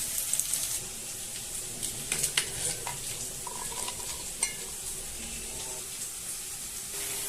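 Onions fry in a pan for chicken curry, giving a steady, dense sizzle with scattered stirring scrapes and clatter close by.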